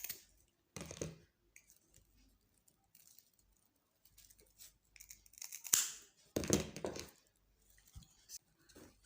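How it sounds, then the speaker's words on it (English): Scissors snip through cream linen fabric in a few short, quiet cuts separated by pauses, with soft rustling of the cloth between them. "You can cut your cream linen."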